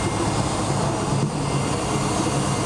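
An airplane carrying a visiting president arrives at an airport, heard as a loud, continuous engine roar with a broad rumbling wash that stays steady throughout, with no voices.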